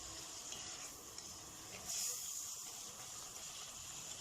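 Rice and chicken giblets frying in a mix of oil and ghee for stuffing pigeons and poultry give off a soft, steady sizzle and hiss, faint and continuous with a brief louder swell midway and no talking.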